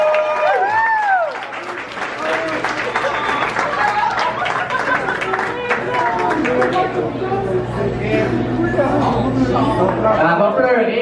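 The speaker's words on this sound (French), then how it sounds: "Hey, on peut l'applaudir, mesdames et messieurs!" Audience applause mixed with crowd chatter, chuckles and excited voices, clapping running steadily under lively talk throughout.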